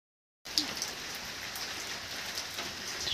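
Steady rain falls after a moment of silence, a dense continuous hiss of drops on surfaces with a few closer drips, fairly soft and unbroken throughout.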